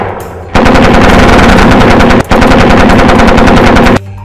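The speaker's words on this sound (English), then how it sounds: "Just keep shooting!" Loud, rapid machine-gun fire rattles nonstop for several seconds as a sound effect in a Lego alien-invasion animation, broken by one brief gap, with no voices over it.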